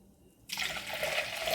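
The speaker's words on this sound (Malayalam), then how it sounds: "ഇതിലേക്ക് 2 ഗ്ലാസ് വെള്ളം ഒഴിച്ചു കൊടുക്കുന്നുണ്ട്." Two glasses of water are poured into milk in a pot, starting abruptly after a brief quiet and continuing as a steady close splashing stream.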